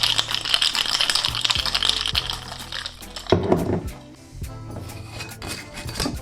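A covered cocktail shaker holding a mocktail with ice, sugar syrup and jalapeños is shaken vigorously, its ice rattling and clinking in a dense, rapid rhythm that slows to a few scattered knocks near the end.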